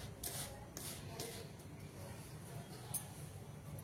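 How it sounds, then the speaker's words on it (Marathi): Desiccated coconut, powdered sugar and milk powder are stirred together in a bowl for coconut mawa rolls, making faint, soft scraping and rubbing sounds in a quiet, irregular rhythm. "हे तिन्ही जिन्नस आपल्याला व्यवस्थित मिक्स करून घ्यायचे आहेत"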